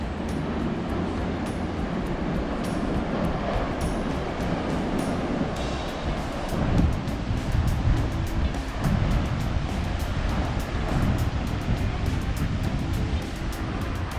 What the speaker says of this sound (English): Been watching some cracking surf here.